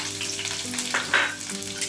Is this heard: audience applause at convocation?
no